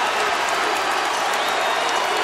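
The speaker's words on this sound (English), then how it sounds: "Listen to this crowd as they just now figure out that Calvin Murphy's record has finally fallen." A basketball arena crowd cheering and applauding as Calvin Murphy's record falls, a dense, loud, sustained roar of many voices and clapping.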